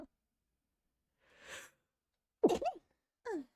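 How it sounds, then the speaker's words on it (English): A single close, fairly quiet sneeze in a hushed ASMR setting, preceded by a soft breathy inhale and followed by a shorter voiced burst. "Hang on, I'm gonna sneeze, and that's not gonna be very nice for an ASMR."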